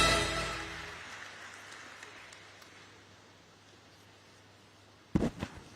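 Audience applause at an award ceremony celebrating India's most powerful women: a dense burst of clapping fades away within the first second, then a quiet room hum, with a few sharp knocks near the end.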